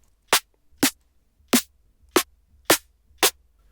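A snappy electronic snare drum sample from a drum and bass session in Ableton Live hits six times at an even pace, bright and crisp, alone over a faint low hum.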